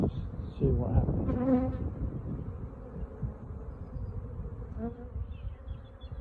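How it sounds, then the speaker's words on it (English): Honey bees swarm around a hive in an apiary, a dense, continuous buzzing hum of many insects close by, with individual bees droning past the listener. "the flying bees are still coming back here, and they're still pretty angry"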